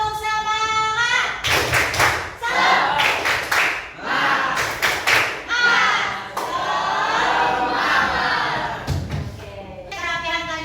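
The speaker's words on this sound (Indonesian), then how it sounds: "Tepuk semangat." Schoolchildren at an ice-breaking session clap together in a rhythmic tepuk semangat chant, with sharp bursts of clapping broken by shouted group responses and a teacher's voice at the start and end.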